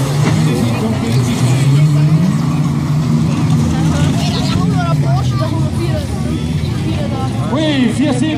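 Unmodified stock cars of up to 1400cc race around the Lambrechten track in 2017, engines droning and revving as they pass, with a commentator talking loudly over the racing throughout.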